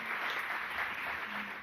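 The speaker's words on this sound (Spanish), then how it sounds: "Un aplauso al Señor," Church congregation applauding during a Spanish-language sermon, a steady wash of clapping that holds at an even level through the whole short stretch, with no voices standing out.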